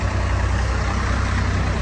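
A Sonalika DI 35 tractor engine idles loudly and steadily close by at the Talwandi Sabo tractor market, with a low, even rumble and no speech.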